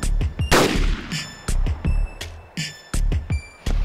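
Sniper rifle shots ring out in DayZ during long-range sniping, a series of sharp, loud reports spaced roughly half a second to a second apart, each followed by a short echoing tail, with no talking.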